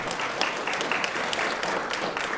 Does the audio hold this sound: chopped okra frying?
no